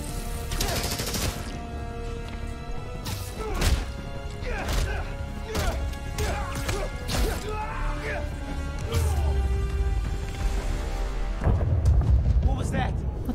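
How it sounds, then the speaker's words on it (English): A video game explosion in Spider-Man: Miles Morales, a loud continuous crashing rumble with repeated sharp whacks and booms layered over dense game noise, building toward the end. "What was that? What the hell? An explosion?"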